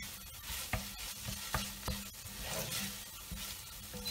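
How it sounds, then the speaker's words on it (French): Tomato paste sautés with onions in a pan, with a low sizzle broken by several sharp spoon scrapes and clacks against the pan at irregular intervals, close and clear, with no voices. "on va faire revenir le concentré de tomate avec les oignons"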